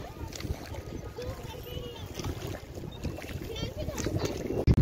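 Boat on the dark lake water at Malli Tal, Nainital, with soft splashing and a continuous low water and boat rumble, mostly under people chatting nearby and a voice.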